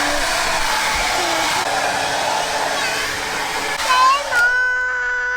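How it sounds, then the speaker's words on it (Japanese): A hair dryer runs steadily with a loud, broad whoosh and a constant motor whine inside a camping car, then winds down and cuts off near the end, leaving a fading tone. "うーちゃんのドライヤーが今終わって"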